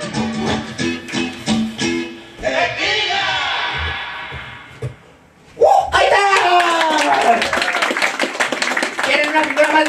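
At a clown show, the audience claps in a short run of rhythmic beats, then after a pause breaks into sustained applause and crowd noise that mixes with a talking voice and lasts to the end.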